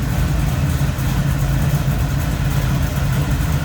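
A 383 stroker V8 with Edelbrock intake, aluminum heads, headers and a 4-barrel carb idling in a 1969 Chevrolet Camaro Z28, a steady close, lumpy low rumble without pause.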